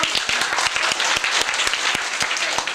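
A school audience at a polytechnic high school sports prize-giving claps together, a dense, loud, steady round of applause with sharp individual claps standing out throughout.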